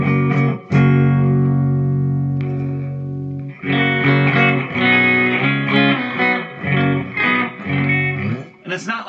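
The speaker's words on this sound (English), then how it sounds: "It's like a treble boost." Electric guitar through a 1990s Peavey Ultra 60 amp with the treble boost on, a brighter tone, a sustained chord ringing out, then choppy rhythmic strumming.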